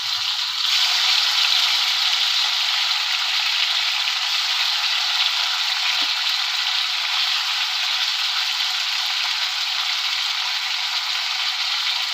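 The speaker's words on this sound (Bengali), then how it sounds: "মাছগুলো আমি কেটে নুন হলুদ মাখিয়ে নিয়েছি এখন আমি ভেজে নেব কড়াতে" Steady, loud hiss of fish frying in hot oil in a wok, continuous and unbroken from start to finish with no voices.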